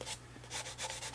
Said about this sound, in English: So I'm just doing a little bit of light sanding.